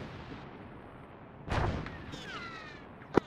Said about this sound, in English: we're taking mortars